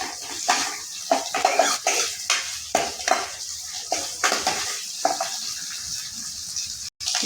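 Cut onions being fried in a pan for masala dosa, with a broad steady hiss under repeated sharp clinks and scrapes of a utensil against the pan, close and fairly loud, no talking.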